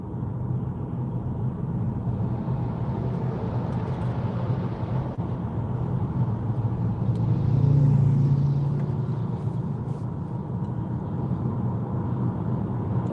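Trucks overtake a Ford Puma on the road, a steady broadband road rumble and engine drone with one truck's louder swell building and fading midway as it passes close by.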